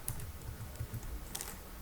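Names being typed into an Excel sheet on a computer keyboard, a quiet run of close, irregular key taps and clicks with no talk over them.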